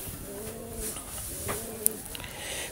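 Oman Teddy pigeons coo softly nearby in a few low, throaty rolling phrases over faint background rustle, with a brief sharp click partway through.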